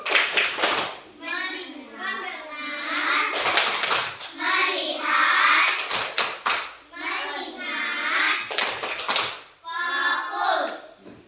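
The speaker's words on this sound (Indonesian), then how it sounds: "Oke, tepuk tangan. Tepuk fokus." Indonesian schoolchildren chant together while clapping in short bursts in a classroom, the claps coming in quick patterned sets between stretches of group voices.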